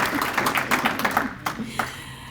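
A community meeting audience claps, a scattered run of many hands that thins out to a few final claps, with a faint murmur underneath.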